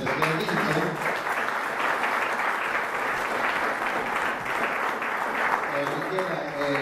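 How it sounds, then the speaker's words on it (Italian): Steady applause for the winner of a national Italian poetry contest in Vieste, a sustained crowd of clapping hands with voices talking over it near the start and end. "Di Perna Michela, applauso perché ha vinto."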